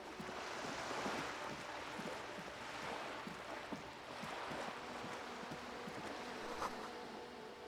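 Sea waves wash steadily and continuously against the shore in the Disco Elysium video game, a broad soft surf with a faint breeze. No distinct cormorant call stands out, and no one speaks.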